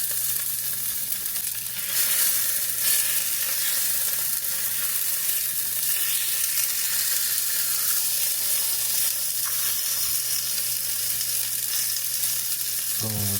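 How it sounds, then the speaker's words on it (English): Chicken sizzles in olive oil in a frying pan, a loud, continuous crackling hiss with small pops, no voices over it. "Boom, we got that sizzling."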